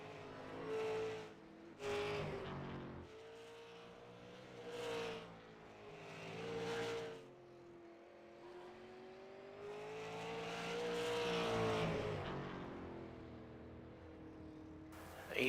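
Dirt super late model race cars roar around a dirt track, engines surging and fading in repeated passes, with one long swelling pass near the end, while a commentator talks over them.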